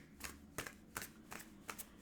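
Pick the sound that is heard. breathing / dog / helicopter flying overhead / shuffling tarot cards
shuffling tarot cards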